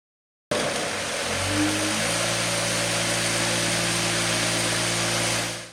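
An American Sander OBS-18DC square-buff orbital sander, just serviced, starts up and runs at a steady, loud, close whir after a brief silence, with its motor tone rising and then holding even until it ends.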